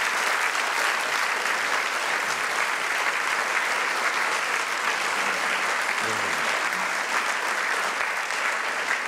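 Studio audience at a Czech television talk show applauding, steady dense clapping that stays loud and even from start to finish with no talk over it.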